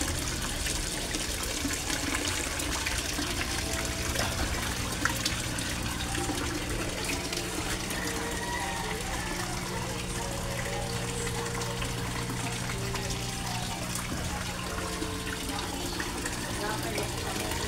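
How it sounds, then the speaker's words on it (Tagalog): Water from a koi pond waterfall flows steadily and continuously, a close, even splashing rush that never lets up. "Yan ang waterfalls ko."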